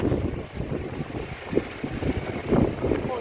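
Strong storm wind roars and buffets steadily, with gusty rumbling surges and rushing noise throughout, loud and close to the microphone.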